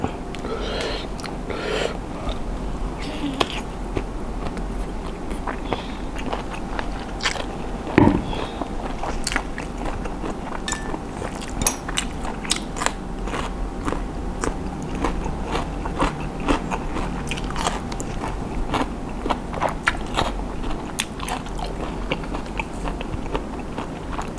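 Crunchy grilled squid being chewed close up, a steady run of soft crisp bites and mastication over a low room background, with no talking.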